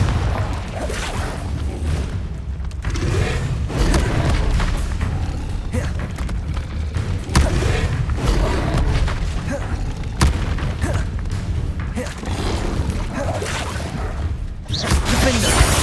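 Repeated booming spell blasts of Confringo in Hogwarts Legacy, dense and loud throughout with crashing thuds and whooshes, over continuous game music and effects.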